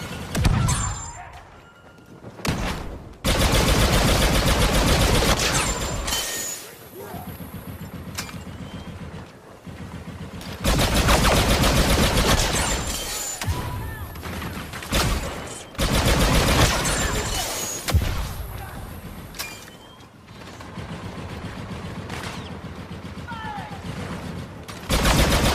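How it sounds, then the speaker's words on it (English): Gunfire in the video game Star Wars Battlefront 2: loud, dense automatic bursts that stop and start in several long volleys separated by short gaps. "Laying down covering fire."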